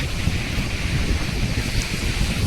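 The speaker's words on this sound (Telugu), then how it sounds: "గాలి మాత్రము ఘోరంగా పెడుతుంది." Strong wind blows across a beach in a continuous, heavy roar that buffets close to the microphone, with a faint wash of surf mixed in.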